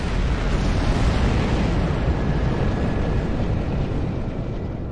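Torpedoes detonate in a Star Trek Online space battle, a dense, sustained roar of rumbling explosions with no voices over it.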